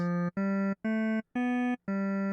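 A synthesizer plays five short, bright keyboard-like notes in a bouncy rhythm, each with a buzzy, harmonic-rich tone and brief gaps between them.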